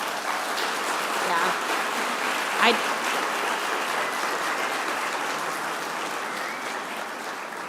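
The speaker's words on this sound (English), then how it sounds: "if we could give them a round of applause for their amazing work" An audience at a company presentation claps in a sustained round of applause, a dense even patter of many hands with a brief single voice calling out partway through.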